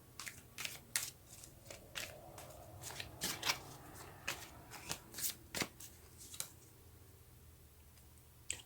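Tarot cards being shuffled by hand, a run of crisp riffling snaps and soft slides at close range over a low steady hum, with no talking.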